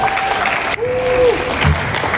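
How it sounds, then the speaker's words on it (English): An audience at a Queens Lunar New Year event applauds in a dense, steady wash of clapping, with a brief tonal sound and some voices mixed in. "please give a round of applause to Queensborough President Donovan Richards"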